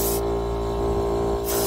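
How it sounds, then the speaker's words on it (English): A spray gun hisses steadily in bursts at the start and end, spraying glaze onto pottery, with a constant motor hum running underneath throughout. "And then I'm spraying it with also the John Ashblue from John Britt's book,"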